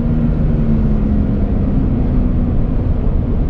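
A 2022 Toyota Tundra pickup in sport mode gives a loud, steady engine roar with a deep low rumble, continuous throughout as it drives along.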